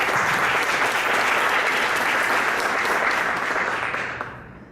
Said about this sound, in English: So a quick round of applause for our professional development panel.